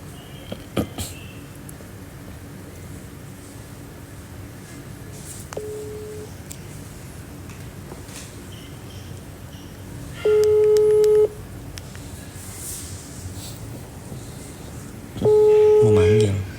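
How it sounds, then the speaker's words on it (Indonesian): Telephone call tones: a short dial beep, then two longer steady ringback or busy-style tone bursts at regular intervals, loud and alone over faint room noise. "Coba gue telepon Mimi gue ya."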